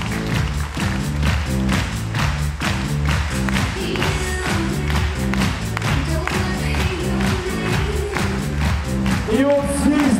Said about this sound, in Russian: И давайте команды, зрители, команда, громкие аплодисменты.